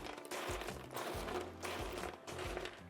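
Dry bread cubes clatter and rattle across a metal baking sheet in a few shaken bursts, close by, with continuous scraping noise.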